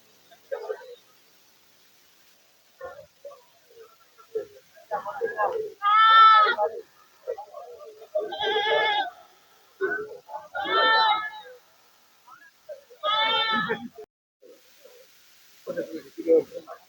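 Goats bleat in repeated loud, wavering cries at the Ullapara gas line goat market, spaced every couple of seconds amid the voices of people talking nearby.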